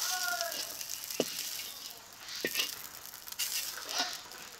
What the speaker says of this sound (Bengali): চিংড়ি মাছগুলোকে হালকা ভেজে নেব।